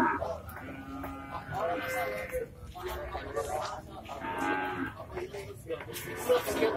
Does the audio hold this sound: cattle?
yes